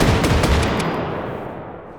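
A shotgun fires in rapid succession in the VR shooting game H3VR, about five loud, close blasts packed into under a second, then a ringing tail fading away.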